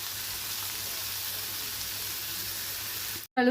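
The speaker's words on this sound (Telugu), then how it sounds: "కొంచెం పచ్చడికి తాలింపు వేసుకుంటున్నాను" Tempering of mustard seeds, cumin, chana dal and curry leaves in hot oil for a chutney gives a steady, even sizzling hiss that runs unbroken, then cuts off abruptly.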